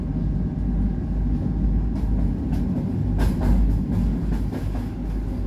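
A German locomotive rumbles steadily on Polish tracks with deep, continuous low noise, with occasional rattles and clunks of wheels over rail joints; loud and close, no voices.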